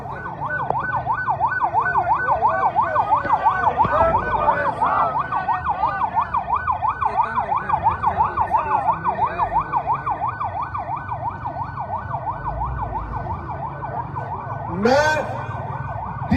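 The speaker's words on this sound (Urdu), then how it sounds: "ایمبولینس سے رستہ دو" Ambulance siren wailing in a steady, rapid up-and-down yelp, loud and close, held for the whole stretch with traffic rumble beneath and a brief sharp rising tone near the end, during an election protest in Haripur.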